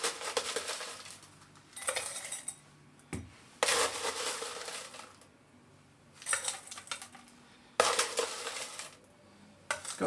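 Crushed ice is poured into a cocktail glass for a Jungle Bird, spilling onto the floor in several crunchy, rattling bursts separated by short pauses, close and fairly quiet.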